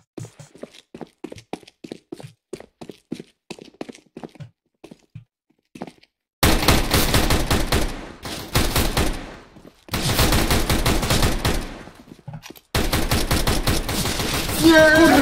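Tec-9 pistol fire in Counter-Strike: Global Offensive, with quiet talk at first, then loud, rapid runs of shots in several separate bursts, close and dense.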